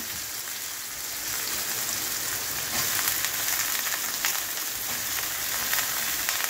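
Potato pieces cut thick like fries frying in hot oil, a dense continuous sizzle and crackle that grows slightly louder after they go in, with no talk.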